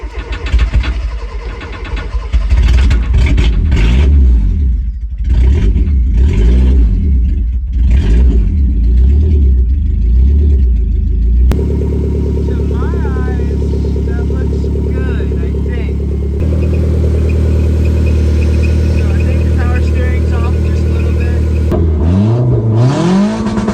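Car with an FE3 engine swap, started with a jump pack and revved with the throttle during drift prep, loud close engine drone rising and falling over most of the clip, with people talking over it.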